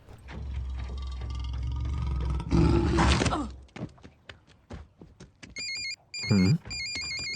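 A phone ringtone chirps in repeated electronic bursts near the end, following a car engine rumble, a door thunk and some shuffling.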